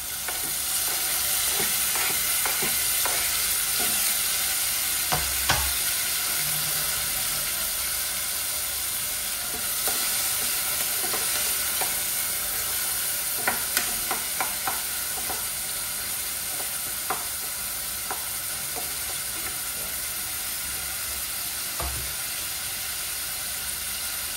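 Tomatoes fry in a pan for tuna kabsa while being stirred, a loud steady sizzle with scraping strokes and occasional clinks of the utensil, close and continuous without talk.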